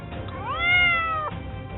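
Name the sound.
tabby cat meowing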